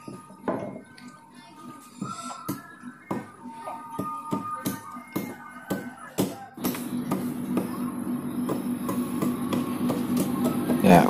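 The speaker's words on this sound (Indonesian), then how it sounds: "setelah pemotongan untuk yang titik tengah yang 5 dan 7 cm itu biasanya menyisakan sisa potongan, itu kita rapikan, kita buang dengan menggunakan" A machete chops away leftover offcuts from a handmade wooden gravestone board, giving sharp, irregular knocking blows close by that grow denser and almost continuous near the end.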